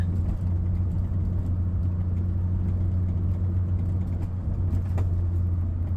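A lowered Mini Cooper on static suspension cruises along a road, its engine giving a steady low drone with road rumble from inside the cabin and no change in pace.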